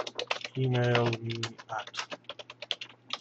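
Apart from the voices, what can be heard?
typing on a computer keyboard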